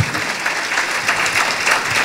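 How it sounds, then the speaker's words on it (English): Loud, dense audience clapping fills a short burst, a warm round of applause for Robin at a university event, steady and close without any speech over it. "How about a nice round of applause for Robin?"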